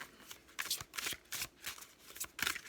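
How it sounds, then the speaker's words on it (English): An oracle card deck being shuffled by hand, a quick series of crisp riffling bursts in an irregular rhythm, close and soft with no talking. "they shuffle nicely."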